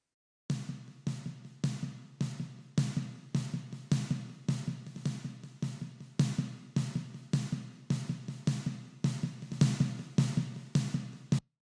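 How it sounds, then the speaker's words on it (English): Snare drum buildup with delay, one part placed in front and another behind the listener in a Dolby Atmos mix: steady repeated crisp hits with echoing tails, fairly soft, alone without voices. "So together the front snare and the rear snare sound like this."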